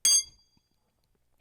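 A single bright metallic ping rings out briefly from a struck metal drumstick, a high note that decays quickly into near silence.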